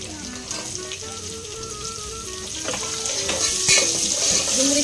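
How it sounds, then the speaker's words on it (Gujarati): Chopped onions sautéing in a pan with ginger-garlic paste after cumin, for a Surti lilva tuvar khichdi; a steady, close sizzle and crackle with stirring scrapes, growing slightly louder toward the end, no talking. "તો હું સાંતરી લઉં છું ડુંગળીને"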